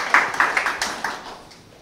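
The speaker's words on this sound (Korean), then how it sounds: "박수로 모시겠습니다." Brief applause from an audience at a Korea University startup event welcomes a dean to the podium: a short, light patter of claps that trails off within two seconds.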